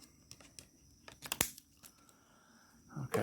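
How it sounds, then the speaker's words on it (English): A tie wrap snapped or cut through with a single sharp click, preceded by small crinkling and handling noises and followed by louder rustling, all close and fairly quiet. "I'm going to cut this tie wrap off."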